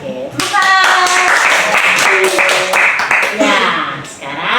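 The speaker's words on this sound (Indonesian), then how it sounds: "Tepuk 3 kali" A group in a school group-counseling session claps in rhythm, short sharp hand claps in a patterned burst, with children's voices chanting and talking loudly over them.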